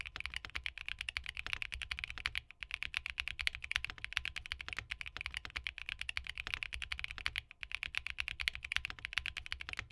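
Muted keyboard keys with silent switches clack in a fast, continuous typing rhythm, soft and close, with two brief pauses.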